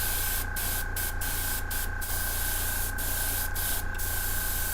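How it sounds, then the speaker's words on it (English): Airbrush laying down base coat paint on a Necron Skorpekh Lord miniature, heard as several short hissing bursts of spray over a steady background hiss, close and fairly quiet with no talking. "But it does lay out smoothly with that airbrush though"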